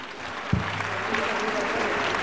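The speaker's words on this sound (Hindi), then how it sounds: "जोरदार तालियों के बीच में" Loud, dense applause from an audience filling a hall at a World Vegetarian Awareness Day gathering in Delhi, steady and sustained throughout, welcoming a professor to the stage.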